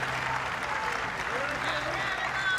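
Spectators at the 2024 Henley rowing race applaud and cheer steadily in the distance, a continuous wash of clapping beneath a commentator's voice.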